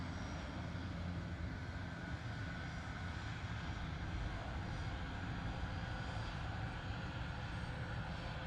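An aircraft flies past at about 100 knots and 1,500 feet during the 2016 Farnborough International Airshow, producing a continuous, even engine drone that holds steady for the whole stretch.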